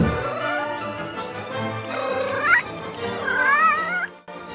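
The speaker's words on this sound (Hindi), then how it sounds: "अरे ओ बिल्ली का बच्चा" A cartoon kitten meows repeatedly, giving several drawn-out, wavering, close and fairly loud cries with no speech over them.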